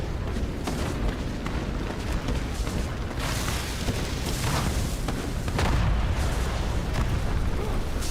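Cannon fire in the video game World of Warcraft: a dense, continuous roar of explosions and booming blasts fills the whole clip without any pause.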